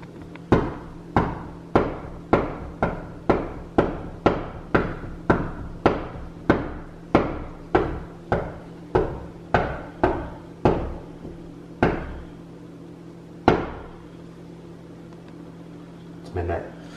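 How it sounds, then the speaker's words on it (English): Slow, steady knocking on a door at midnight for the Midnight Man game, about twenty evenly spaced loud raps over roughly twelve seconds, followed by a lone knock after a pause, with low steady room hum underneath. "I timed it perfectly so that my 20 second knock will land on midnight."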